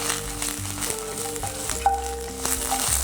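Lemongrass and bay leaves fry in oil over medium heat, giving a continuous close sizzle and crackle with small pops and faint stirring scrapes, with no talking.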